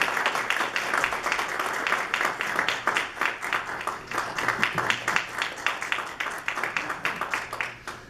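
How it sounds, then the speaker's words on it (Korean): Applause at a Korean Christian business association chapter president inauguration ceremony: a roomful of hands clapping in a steady, brisk patter for the whole stretch, moderately loud and even. "뜨거운 박수 부탁드리겠습니다"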